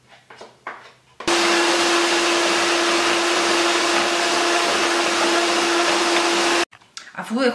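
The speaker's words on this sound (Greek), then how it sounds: "Και θα τις χτυπήσουμε με το μίξερ." An electric mixer whips chilled cream for dark and white chocolate ganache in a bowl, giving a loud, steady motor whine with a constant tone for about five seconds, with faint sounds on either side.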